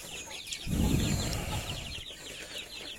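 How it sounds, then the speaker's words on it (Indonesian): A muscovy duck on a poultry farm calls for food, giving a short, low, raspy burst near the mic that fades into a faint hissing murmur against steady background chirping. "Itu bahasa entok tuh, minta makanan enak begitu tuh."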